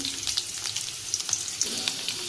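Half an onion with kasuri methi and bay leaf sizzles hot in a pan, a dense close crackle with tiny spits and pops over a couple of seconds, no voices.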